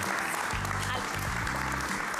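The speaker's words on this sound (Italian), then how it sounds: "applauso, applauso." Studio audience applauding on an Italian television talk show, a steady dense clapping that fills the whole short stretch while a presenter speaks over it.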